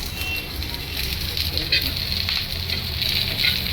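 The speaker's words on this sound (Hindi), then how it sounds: "तो पनीर भूज ली थी अभी वापस सब मिक्स करके भूज रही हूँ।" Masala and paneer fry together in a pan for a mutton salan, giving a steady close sizzle with crackling bursts throughout and a faint voice in the background.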